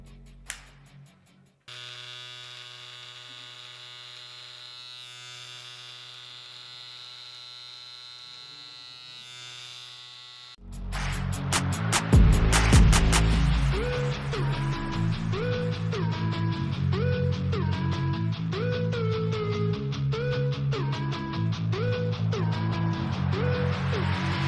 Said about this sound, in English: right now I am going to trim my beard with the help of this 3 mm comb